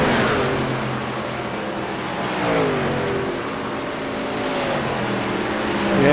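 Race cars circle Daytona International Speedway, a steady droning roar of several engines with rising and falling pitch as they run close by, no voices.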